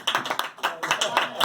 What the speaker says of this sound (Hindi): देखिए एक बार ताली बजावे जाओ।